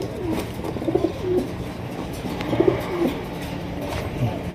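Pigeons in a market pair offered for sale coo in soft repeated bursts against a busy background of chatter and general noise, with a few brief chirps mixed in.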